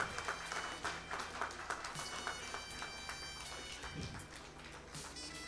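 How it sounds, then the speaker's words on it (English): Applause from an audience at a silver jubilee celebration ceremony honouring award winners, steady scattered clapping across a hall, fairly faint and continuous for several seconds. "So I request all the audience, please keep clapping"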